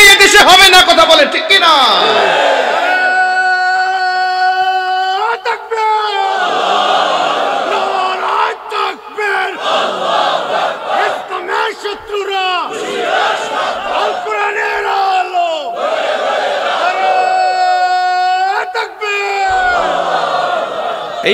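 A large crowd at a Bangla religious sermon gathering in Sylhet chants Takbir in loud, sustained unison calls that rise and fall repeatedly, filling the space and echoing.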